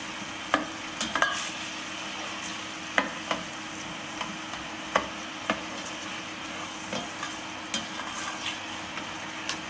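Garlic and vegetables softening in hot oil in a pan, a soft steady sizzle with scattered sharp clicks of a utensil against the pan.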